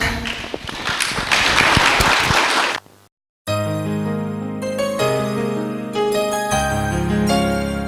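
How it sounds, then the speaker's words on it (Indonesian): Audience applause at a Christian theology lecture, a dense burst of clapping for about three seconds that cuts off abruptly, followed by music. "Beri tepuk tangan."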